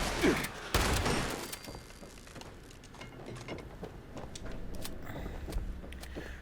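Shotgun gunfire in the video game Fallout 76, with two loud blasts near the start and scattered action sounds and rumble afterward.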